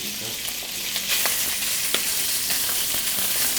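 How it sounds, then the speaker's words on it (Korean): Pork belly stir-fried in a hot pan greased with scallion oil gives a loud, steady sizzle and spatter, with occasional scraping stirs punctuating the continuous frying hiss, close up and without talking. "삼겹살을 볶으면서 나오는 벌써 맛있는 소리"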